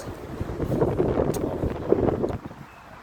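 Gusty wind buffets and rumbles steadily, roaring with a low, rushing hiss throughout.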